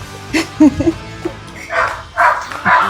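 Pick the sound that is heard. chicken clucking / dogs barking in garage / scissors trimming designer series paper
dogs barking in garage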